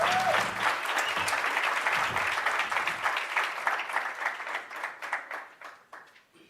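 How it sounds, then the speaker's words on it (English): A hackathon crowd applauds steadily, dense clapping filling the room and gradually thinning toward the end. "Round of applause."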